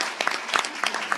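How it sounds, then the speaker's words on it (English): Audience at a governor's education announcement applauding, a short burst of scattered clapping heard close and moderately loud. "Let's give them a big round of applause"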